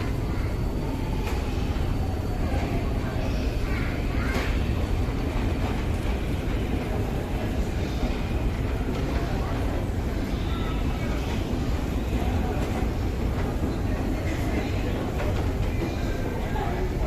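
Budapest metro train riding through the city, a constant loud rumble and roar of the moving carriage with squeals and rattles, steady throughout with faint voices in the background.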